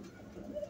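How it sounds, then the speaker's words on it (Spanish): Soft, low pigeon cooing from a pigeon loft, a short murmuring coo that swells slightly near the end over a faint steady background. "Esta paloma es otra consanguínea más del cabo de José."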